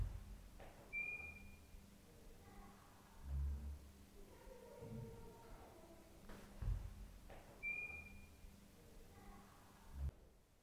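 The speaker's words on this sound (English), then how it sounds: "it sounded like somebody whistled" Inside the empty Shepton Mallet Prison building, two brief, faint, high whistles sound several seconds apart amid quiet room tone and soft low thumps.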